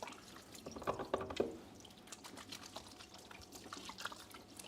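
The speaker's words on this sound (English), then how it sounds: "Let me just wash my hands real quick." Faint water running and dripping as hands are washed at a kitchen sink, with a few small splashes early on over a low steady trickle.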